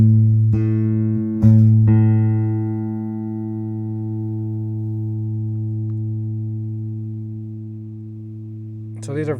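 Plucked strings held while being tuned by ear, a few attacks followed by a long sustained ringing tone with slow, gentle beating as the pitches come close together, fading gradually before a brief noise at the end.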